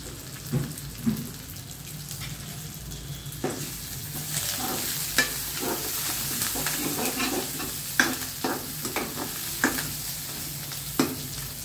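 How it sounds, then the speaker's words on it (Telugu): Curry leaves fry in hot oil for a bottle gourd curry, crackling and sizzling continuously while a spoon clinks and stirs with sharp intermittent taps, close and clear, with no talk. "ఇది కరివేపాకు వేస్తున్నానండి"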